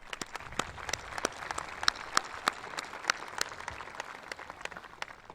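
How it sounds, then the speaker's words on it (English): An audience applauds at the 2017 Lacey Township Middle School promotion ceremony, a steady, fairly distant patter of many hands with a few sharper individual claps standing out and no talking. "All the students, parents, teachers, administration, and staff deserve a huge round of applause"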